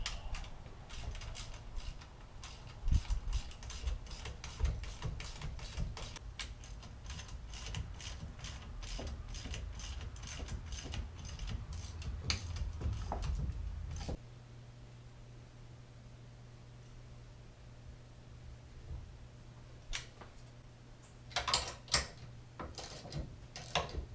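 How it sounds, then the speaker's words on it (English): A 3/8 drive ratchet with a 1/2 inch socket tightens bolts on a Towtector adjustable brush mount, giving rapid, steady clicking bursts for about fourteen seconds, then quiet with a low hum and a few short clicks near the end. "The next step is we're going to tighten all of these bolts. I'm using a 3/8 drive ratchet with a 1/2 inch socket."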